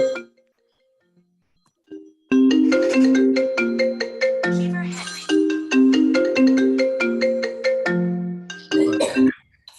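A mobile phone rings loudly during a Zoom meeting, playing a bright repeating chime melody for several seconds that stops abruptly; brief faint sounds come before it.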